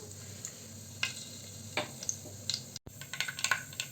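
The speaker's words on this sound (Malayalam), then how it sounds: "നമ്മുടെ കടുകൊക്കെ ഇപ്പോൾ പൊട്ടി വരുന്നുണ്ട്" Mustard seeds pop in hot coconut oil in a pan, a faint soft sizzle broken by sharp scattered crackles that grow quicker toward the end.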